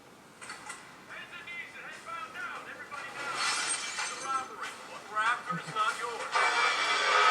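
A movie trailer plays through a smartphone's built-in speaker at maximum volume, with voices, music and crashing effects sounding loud, bright and thin, without bass, and a continuous busy mix that builds toward the end.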